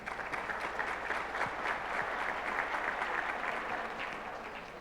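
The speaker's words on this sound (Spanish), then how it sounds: "Pido para ella un fuerte aplauso." Audience applause at a national education conference, a steady wash of clapping from a hall crowd that holds evenly throughout and tapers slightly at the end, moderately distant with no talk over it.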